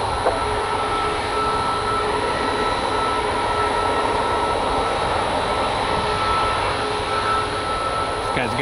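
Southwest Airlines Boeing 737 MAX jet moving along the runway at an airport, a steady broadband engine roar holding at a constant level throughout, with a faint tonal whine over the wash of noise.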